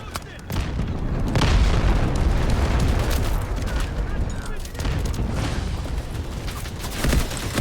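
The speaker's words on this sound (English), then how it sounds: "Artillery ready for barrage." Artillery barrage explosions in the shooter game Delta Force Hawk Ops, a dense run of loud booms and rumbling blasts that overlap with little pause, with faint voices mixed in.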